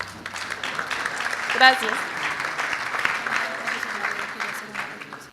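An audience at an ecological economics lecture applauds to welcome a professor, with steady, dense clapping filling the hall throughout and a brief spoken word partway through.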